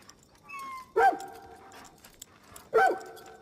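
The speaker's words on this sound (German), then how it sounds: "Befreie die Hunde." Dogs in Far Cry New Dawn, freed from captivity, let out two short, clear whimpering yelps about two seconds apart, with a softer whine just before the first, over quiet game ambience.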